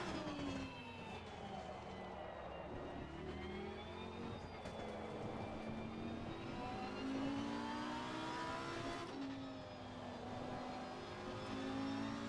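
A race car on slick tires drives along a drier racing line in a wet racing video game, its engine whining steadily with pitch rising and falling through gear changes, sustained and fairly loud.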